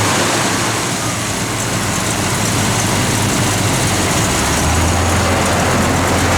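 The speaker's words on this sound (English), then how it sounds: "Again, just good running 390." A 1969 AMC AMX with a 390 V8 idles steadily, a loud, continuous low engine rumble with broadband mechanical roar throughout.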